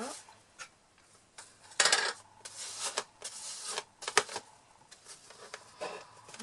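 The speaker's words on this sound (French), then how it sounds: "Désolée pour le bruit du ballon" Close squeaky rubbing and scraping of a rubber balloon being handled while making a Halloween pumpkin, in uneven bursts with brief pauses.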